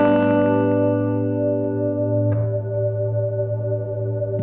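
An Alabs Cetus reverb pedal in freeze mode holds a guitar chord as a steady, loud sustained drone, with a brief faint click near the middle while the frozen tone carries on unchanged.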